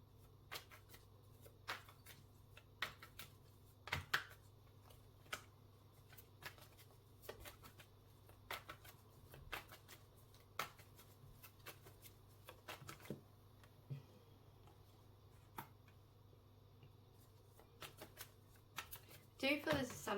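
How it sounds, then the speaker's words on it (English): Tarot cards are shuffled by hand, giving repeated soft flicks and riffles at an irregular rhythm, faint and close, with a brief louder burst near the end. "So I'm going to pull some tarot cards."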